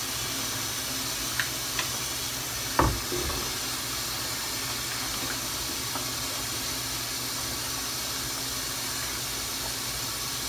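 Tap water runs steadily into a sink while dishes are washed in a tent, a continuous hiss with a brief clunk near the middle and a few faint knocks.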